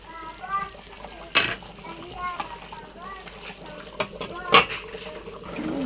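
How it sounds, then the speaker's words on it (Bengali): Stirring rohu fish and taro root curry in a pot with the lid loosened, two sharp clanks of spoon or lid standing out against a background of voice and low kitchen noise. "ঢাকাটা আগলা করে নেড়ে দেবো।"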